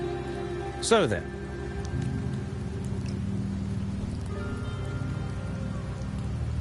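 Steady rain pattering in Septimont in Wuthering Waves, a constant soft hiss on surfaces running throughout, with someone speaking briefly near the start.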